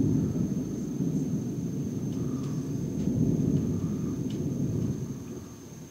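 Low, continuous thunder rumbles through a rainy storm, a steady deep roll that swells slightly before easing off near the end, with faint higher crackles scattered above.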